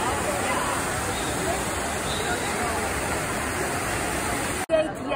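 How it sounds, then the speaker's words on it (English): Rushing water from the Trevi Fountain in Rome blends with the babble of a large crowd, a constant broad wash of sound ending in an abrupt clunk and a brief louder burst. "There's a lot of people at the Trevi Fountain"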